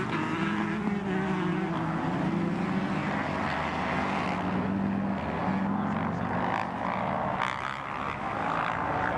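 Motorcycles, including a 450 Kawasaki, roar together in a steel-shoe ice race, a dense, continuous engine drone at mid distance with rising and falling pitches.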